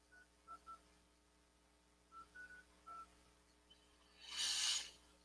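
A telephone dials a number, several short separate tones in two quick bursts, faint and clean, followed by a brief louder burst of noise.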